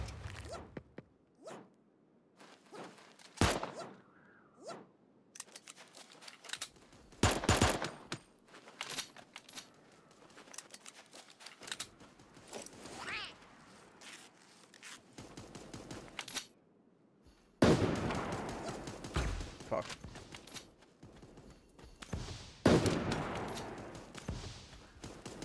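Hunting rifle shots in the cartoon battle royale Super Animal Royale, sharp separate cracks spaced irregularly with quieter clicks and handling sounds between them, and a denser noisy stretch near the end.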